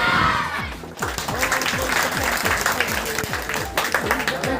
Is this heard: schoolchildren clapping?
yes